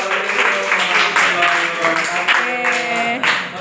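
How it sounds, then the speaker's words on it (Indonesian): A classroom group rewarded with clapping after its presentation on Pancasila, the rhythm uneven and close, with several voices talking and calling out over it throughout. "Tepuk tangan dong buat kelompok 2"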